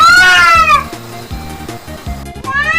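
A pet cat yowls loudly while being bathed, with drawn-out wailing cries at the start and end, over a rhythmic background beat, with no clear talk.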